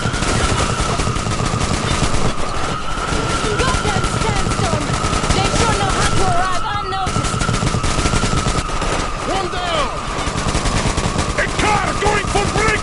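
Dense, loud gunfire in the shooter game Metro Exodus, with sustained automatic bursts and overlapping shots firing almost continuously, plus a steady droning tone and shouted voices mixed in the din.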